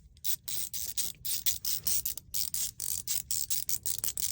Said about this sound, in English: The double ratchet mechanism, I can go back and forth, and I'm spinning this bit the same direction.